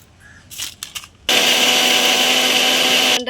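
White mustard seeds, sesame seeds and five green chillies with water are ground into a paste in an electric grinder. After a few faint handling knocks, a loud, steady whirring runs for about two seconds and then stops abruptly.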